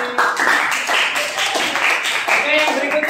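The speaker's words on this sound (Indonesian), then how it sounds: "tepuk tangan untuk kelompok ini" A classroom group gets a short round of applause, with several hands clapping fast and close by for about three seconds while voices talk over it.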